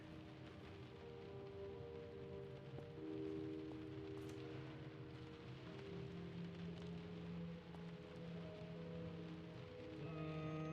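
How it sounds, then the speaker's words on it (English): Rain falls outside in the Close to the Sun video game, a soft continuous patter heard faintly beneath steady tonal hums and drones of the game's ambience. "Or maybe that's rain outside."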